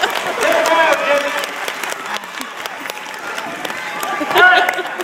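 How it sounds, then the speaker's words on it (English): Audience applause and cheering at a live magic show after a trick with rings, a steady crowd roar that swells again near the end. "Give them a big round of applause."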